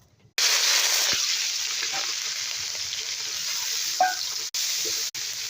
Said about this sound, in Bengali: এখন এটা 10 মিনিটের জন্য নাড়াচাড়া করে নিয়ে ভালো মতন কষিয়ে নিতে হবে